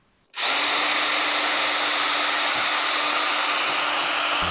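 A power tool stripping brake calipers down to bare metal, a loud steady high-pitched whir that starts abruptly and runs unbroken and close-up throughout.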